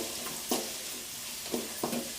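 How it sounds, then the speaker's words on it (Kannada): Tomatoes fry in a pan with a steady soft sizzle, broken by a few brief stirring scrapes, close and moderately quiet with no talk. "ಟೊಮೆಟೊ ಹಾಕ್ಕೊಂಡು ಫ್ರೈ ಮಾಡ್ಕೊತಿದ್ದೀನಿ"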